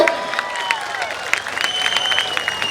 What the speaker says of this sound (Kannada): ಸೊ ಜೋರಾಗಿರುವಂತಹ ಚಪ್ಪಾಳೆ ಕಾರ್ಕಳ ಟೈಗರ್ಸ್ ಇಡೀ ತಂಡಕ್ಕೆ ಕೊಡಬೇಕು.